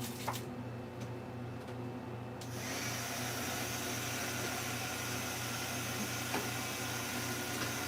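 Heat embossing tool blowing hot air on a birthday shaker card, a steady close whirring hiss that starts after a quieter opening and runs evenly to the end.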